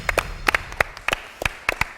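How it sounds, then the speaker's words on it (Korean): Sparse claps from a small group of hands at a strongman deadlift competition, a handful of sharp, separate bursts spread unevenly over two seconds, fairly close and moderately loud with no voices. "박수 부탁드립니다."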